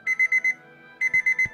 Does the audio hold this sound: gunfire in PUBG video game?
no